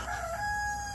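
A rooster crows faintly in the distance on a native chicken farm in Samar, Philippines, its drawn-out call standing over a steady outdoor background hiss.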